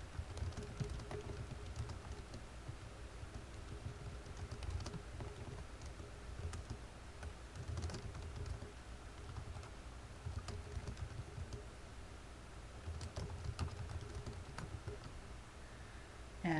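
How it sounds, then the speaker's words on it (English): Text being typed on a computer keyboard, soft, faint key taps pattering irregularly at close range against a quiet background hiss. "And all I need to do then is type out the text."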